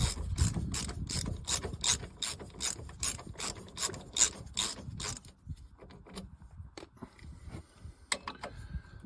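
A ratchet wrench loosens the Allen brake caliper screws on a Citroën Grand C4 Picasso, clicking in rapid repeated bursts close up, then slowing to scattered clicks and clanks toward the end.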